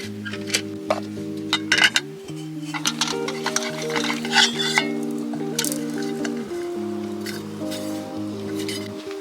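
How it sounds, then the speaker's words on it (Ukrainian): Camping cookware clinks and scrapes near the mic while water is set to boil for drip coffee outdoors on a bike trip, with steady gentle music-like tones underneath and scattered sharp metallic taps. "Поставила кипятитись воду і будемо зараз робити дріб каву."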